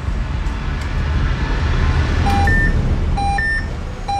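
A drug detector machine at an airport customs check sounds its alarm for heroin with a few short, clear electronic beeps at two alternating pitches, set against a steady loud background rumble.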